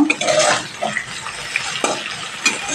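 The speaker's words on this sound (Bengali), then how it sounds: "এখানে একটু অল্প পরিমাণ লবণ দিলাম, একটু অল্প পরিমাণ হলুদ দিয়ে আলুটা ভেজে নেব রসার জন্য।" Potatoes fry in hot oil with a little salt and turmeric, sizzling steadily close up while a utensil stirs and clinks against the pan in several distinct scrapes and taps.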